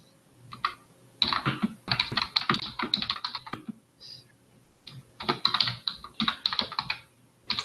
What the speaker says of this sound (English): Somebody is typing their.